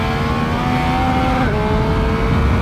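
Triumph Speed Triple RS motorcycle from 2018 with a three-cylinder engine, held at a loud, steady high-revving drone on throttle, with the pitch dipping slightly around a gear change midway.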